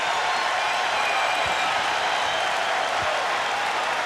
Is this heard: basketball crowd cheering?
yes